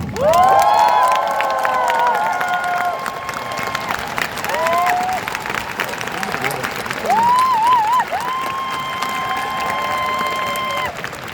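A concert audience applauds the backing band at a Korean singer's show in Gwangju, sustained clapping and cheering from a large crowd with loud, high shrieks and shouts rising over it in bursts.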